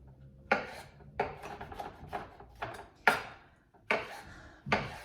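A sharp knife chops mushrooms on a board for mushroom soup, about eight distinct close knocks in an uneven rhythm, sounding alone without talk.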